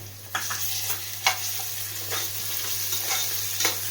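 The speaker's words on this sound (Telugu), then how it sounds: "మిల్ మేకర్ మొత్తం ఫ్రై అయిన తర్వాత దీనిలో మనం అల్లం వెల్లుల్లి పేస్ట్ 1 స్పూన్ వేసుకోవాలి" Ginger garlic paste frying with soya chunks in a pan as they are stirred, a bright steady sizzle broken by repeated scraping strokes of the spoon, close and without voices.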